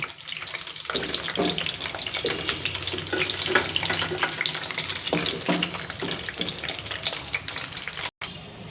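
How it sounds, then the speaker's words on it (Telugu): Amla gooseberries fry in hot oil for a pickle, giving a continuous hissing crackle with irregular pops and spits, loud and close, with no talking. "కాయలు మెత్తబడే వరకు మనం వేయించేసుకోవాలి"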